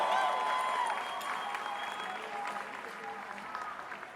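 Crowd at a street march calling for a ceasefire in Gaza claps steadily in a dense, continuous wash of applause, with voices mixed through the crowd noise.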